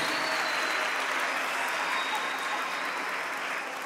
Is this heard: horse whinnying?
no